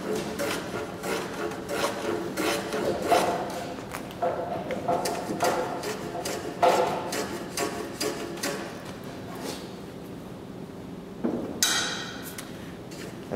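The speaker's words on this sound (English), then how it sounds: "you can either use a block plane to ease the edges, and you would go at about a 45 degree angle, and you can just run it down through" A block plane eases the edges of a timber beam at a 45 degree angle, giving repeated close scraping and rubbing strokes in a steady rhythm while someone talks over the work.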